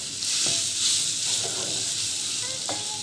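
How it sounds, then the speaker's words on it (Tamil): Aloo tikki ingredients, including grated boiled potato, are mixed in a hot pan, with a steady, loud sizzle and a few soft stirring strokes. "இதை நல்லா மிக்ஸ் பண்ணிக்கோங்க."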